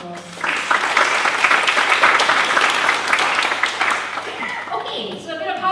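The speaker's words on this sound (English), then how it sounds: "Can we please give them a big round of applause?" A conference audience applauds panelists at a talk on inter-belief in a secular society, a full room of clapping that swells, holds and then thins out as a voice resumes near the end.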